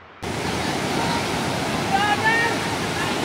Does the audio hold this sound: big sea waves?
yes